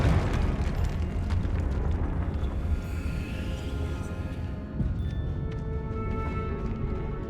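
A Confringo blasting spell bursts in Hogwarts Legacy, a dense, sustained rumbling explosion with low roar and crackle that stays loud throughout, dipping slightly midway before swelling again.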